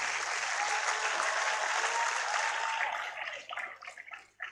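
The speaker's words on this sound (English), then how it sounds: "Another round of applause for the lecturer." Sustained audience applause closing an inaugural university lecture at the University of Benin, a dense wash of many hands that holds steady, then thins and breaks into scattered claps toward the end.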